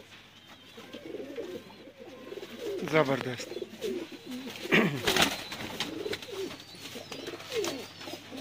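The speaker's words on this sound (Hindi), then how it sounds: "लो दोस्तों है फ्रांसी वड्डा कबूतर है।" Large French pigeons coo nearby, low rolling calls repeating through the clip while someone speaks over them and a few sharp knocks sound midway.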